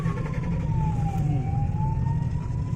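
An ambulance siren on an Odisha highway, a wailing tone that sweeps down and rises again above the steady rumble of car and road noise, fairly close by.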